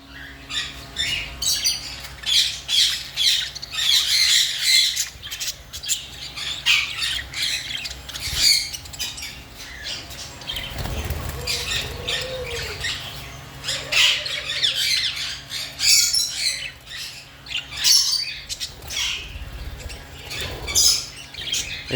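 A group of home-bred Japanese budgerigars, about thirty birds kept for sale, squawk and chirp continuously at close range, a dense chattering flock with no talk over it.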